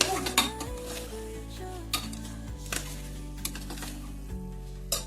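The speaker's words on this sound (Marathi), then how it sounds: "तांदूळ बी छान असे परतणार आहोत त्याला" Rice is sautéed in a pot for spinach khichdi, stirred with a utensil that scrapes and clinks against the metal in a loose, irregular rhythm. A faint sizzle sits underneath, close and moderately quiet, with no voices.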